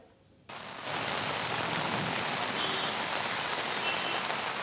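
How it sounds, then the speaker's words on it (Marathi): Heavy rain in Pune starts abruptly after a brief quiet moment, then pours as a dense, steady roar at full strength with no voices. "पुण्यामध्ये देखील आता नुकतीच पावसाला सुरुवात झालेली आहे"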